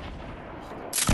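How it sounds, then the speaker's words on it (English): Video game gunfire as players shoot at each other, a dense burst of rapid shots at mid distance rising into a loud, sharp blast at the end, with no talk. "They're shooting at each other."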